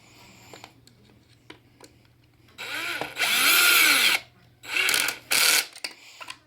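Power drill driving a screw into a Traxxas X-Maxx RC truck, whining up in loud bursts as the clutch slips and ratchets with a rapid clicking, with short pauses between runs.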